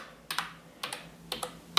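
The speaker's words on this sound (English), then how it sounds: "So I'm just gonna type" Keys clack on an A4TECH FStyler FG1010 wireless keyboard, four quick close pairs of crisp taps spaced evenly in a short burst.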